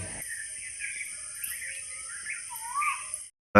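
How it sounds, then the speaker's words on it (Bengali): A koel calls with a few tonal, rising whistled notes over a steady high electronic whine, on an empty road at Mayapur in the morning, then the sound cuts off abruptly. "আর কোকিলের ডাকটা তোমরা শোনো।"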